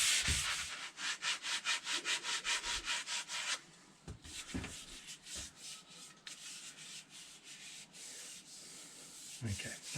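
Rhythmic back-and-forth scrubbing of a sanding pad on a new wooden handle for a block splitter, fast regular strokes for about three and a half seconds, then slower irregular rubs with pauses, close and clear.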